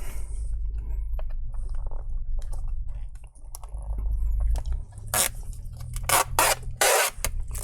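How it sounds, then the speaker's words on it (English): Rubber stopper being peeled and scraped off the bottom of an HP 15 DY laptop, giving close, sticky tearing and scratching sounds, with sharp spray-like rips toward the end over a low hum. "So this rubber stopper actually covers up the hidden screw. So we need to peel this first."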